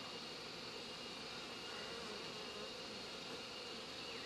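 Honeybees droning around the hives of a busy bee yard, a faint, even, continuous buzz of many insects with no talking.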